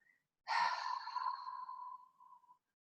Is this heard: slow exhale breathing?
yes